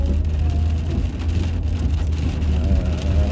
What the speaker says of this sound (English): It's literally raining, dude.